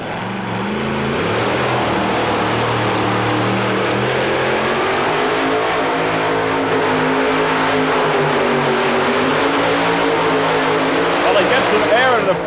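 A loud, powerful 650-cubic-inch two-wheel-drive pulling truck engine roars continuously and climbs in pitch as it strains hauling a sled at an indoor truck pull, Omni Atlanta, 1990, with a commentator's voice running over it.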